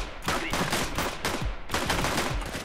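Rapid gunshots ring out in CS:GO, a loud, dense string of close shots fired in quick succession with little pause between them.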